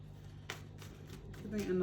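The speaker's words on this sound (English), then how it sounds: "I have already pre-shuffled. I'm just giving it another" Quick papery riffles of tarot cards being shuffled, a few short bursts close by, with faint background hum.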